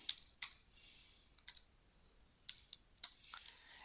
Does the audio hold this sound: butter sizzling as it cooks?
no